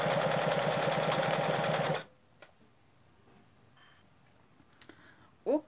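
A sewing machine stitches a dense zigzag on a rug, running with a fast, even mechanical whir for about two seconds before stopping, followed by faint clicks and handling noises.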